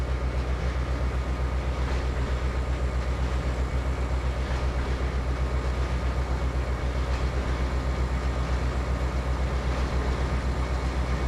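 A train in the Trainz 2022 video game rumbles steadily along the track at Tidewater, a continuous loud, low rolling drone with faint rhythmic rail clicks and no voices.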